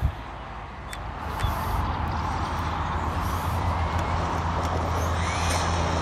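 An Arrma Vorteks RC car fitted with a high-speed pinion runs at speed, a steady loud motor and tyre roar building after a brief start and holding throughout, with no voices.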